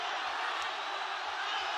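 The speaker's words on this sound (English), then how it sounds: "The crowd absolutely baying for this fight to finish." A faint, steady roar of an arena crowd at a televised MMA championship fight, a broad wash of noise with no distinct cheers standing out.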